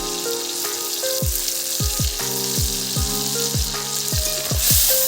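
A spice paste of turmeric, ginger, garlic and dried chili fries in a village-style chicken and potato curry, sizzling loudly and steadily up close while repeated stirring knocks and scrapes land every half second or so.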